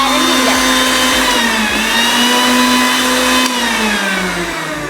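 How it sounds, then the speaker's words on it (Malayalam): A kitchen mixer grinder grinds fish fry masala with a steady, close electric whine that holds its pitch and dips slightly near the end. "നമുക്ക് മിക്സിയിലിട്ട് അരയ്ക്കാവേ."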